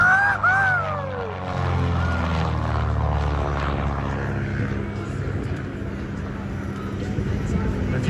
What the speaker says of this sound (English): Listen to those twin engines as they go by.